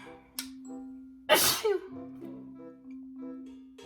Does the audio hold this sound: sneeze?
yes